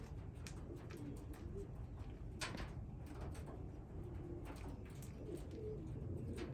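Racing pigeons coo softly at an outdoor loft during an old-bird race, low murmuring calls repeating under steady background noise, with occasional faint clicks and flutters.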